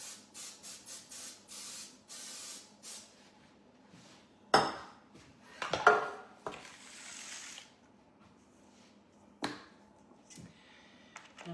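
Several short hissing bursts of cooking spray on a baking pan in quick succession, followed by a few clanks of the pan and utensils nearby.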